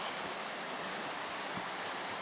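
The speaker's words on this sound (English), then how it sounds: "water's just coming out of the side of the rocks" Water spilling steadily from the side of rocks along the Eagle Rock Loop trail, a close, continuous rushing hiss with no break, heard on its own.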